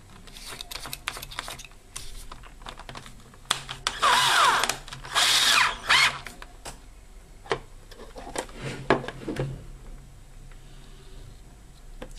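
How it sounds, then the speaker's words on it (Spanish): A power drill with a number 6 bit bores a hole in an enclosure for an ESR meter component tester, with short whining bursts between quiet handling clicks, close and fairly loud. "Tomamos medida de una broca adecuada al diámetro que quedará externo del botón y realizaremos el agujero."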